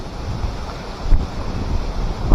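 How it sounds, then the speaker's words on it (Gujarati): Strong storm wind buffets a village in a loud, continuous roar with heavy gusty rumble and microphone buffeting, no talk. "પવનની આંધી આવેલી છે"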